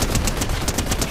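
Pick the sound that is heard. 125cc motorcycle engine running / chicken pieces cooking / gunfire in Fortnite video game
gunfire in Fortnite video game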